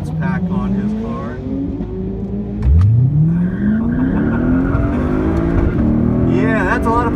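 A 2018 Mustang 5.0 with performance pack and a Lexus IS F launch down a drag strip, engines roaring loudly and rising in pitch as they accelerate, with voices talking over the noise.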